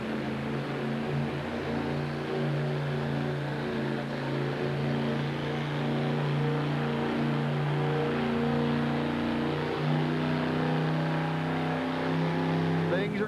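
A monster truck with a 460 cubic inch engine pulls a sled at a 1989 USHRA event in Phoenix, its engine droning loud and sustained for the whole stretch, steady rather than rising, as heard from the stands.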